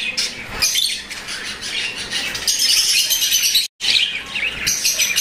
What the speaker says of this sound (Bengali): একজোড়া ককাটল রয়েছে, লুডিনো রেড আই, খুব চমৎকার দেখতে পাচ্ছেন